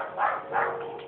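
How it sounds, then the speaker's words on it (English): A dog barks twice in the Minecraft video game, two short soft yelps about a third of a second apart, alone with no talking. "Whose dog is that?"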